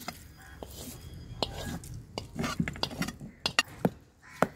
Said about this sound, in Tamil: இப்போ தாளிச்சதை அதில் கொட்டுறேன்.